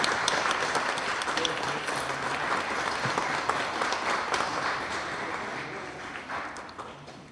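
Steady applause from an audience at an appointment ceremony for a new crime victim support centre chairman, sustained clapping that stays even for several seconds before easing slightly at the end.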